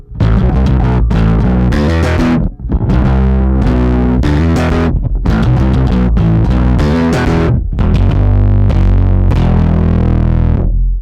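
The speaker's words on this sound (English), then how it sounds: "Here's one more clip that TADPOLE used with an active bass and slightly more aggressive playing." Active electric bass played aggressively through a TADPOLE effects pedal, giving a loud, distorted, dense tone with continuous driving notes and a brief dip near the third second; no talking.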